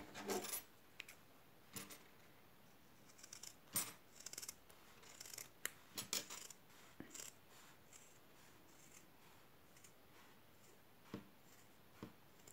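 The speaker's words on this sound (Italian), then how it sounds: "ed ora taglio la stoffa" Scissors cut through denim fabric with crisp, intermittent snips and rustles close to the listener in a quiet room, and there are pauses between the cuts.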